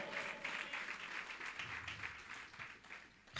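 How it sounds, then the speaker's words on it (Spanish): A church congregation applauds for the Lord during a sermon by pastor Joel David Cuá, a soft, somewhat distant spatter of clapping that rises and thins unevenly over a few seconds, with no voice over it. "Démosle fuertes aplausos al Señor"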